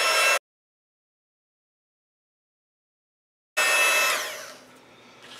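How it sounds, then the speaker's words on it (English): Heat gun blowing for embossing powder on a craft project, a loud steady airy whoosh that cuts out abruptly, falls silent for about three seconds, then starts again and gradually fades down. "I'm going to run my heat gun."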